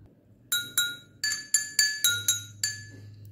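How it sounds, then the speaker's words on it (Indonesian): Glass tumblers holding water clinking together, eight bright ringing taps in an irregular rhythm, each with a short sustained tone, heard close over a low background hum. "Contoh bunyi adalah gelas yang berisi air."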